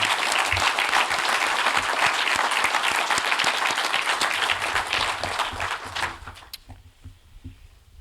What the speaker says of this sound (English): I would like to just offer a round of applause for all three of these gentlemen